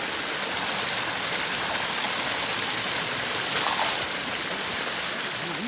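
Steady rushing of spring water flowing along a mountain trail, a continuous broadband wash close by with no talk over it.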